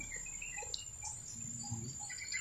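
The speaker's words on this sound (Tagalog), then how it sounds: "Ibon na naman na." Small birds chirp faintly outdoors in sparse, scattered calls over a quiet background with soft insect buzzing, with no talk heard.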